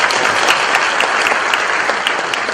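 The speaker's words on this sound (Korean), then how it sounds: "박수로 맞이하겠습니다." A large audience at an outdoor Easter union church service claps loudly and continuously, a dense, even wash of applause with no break.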